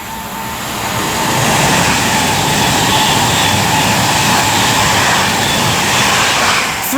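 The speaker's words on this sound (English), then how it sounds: "next train is Glasgow to London" A passenger train on the West Coast Main Line at Tamworth, a Glasgow to London service, rushes past with a loud, sustained roar that swells and holds, with no talking.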